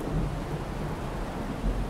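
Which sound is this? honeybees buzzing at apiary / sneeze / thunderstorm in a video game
thunderstorm in a video game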